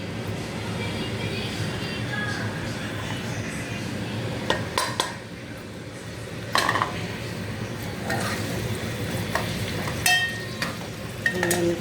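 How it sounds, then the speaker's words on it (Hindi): Onions frying on high heat in a pan for a tempering base, a steady broadband sizzle with several sharp metallic clinks and scrapes of a utensil against the pan, no talking. "ये मैंने प्याज डाली, प्याज का बघार करूँगी"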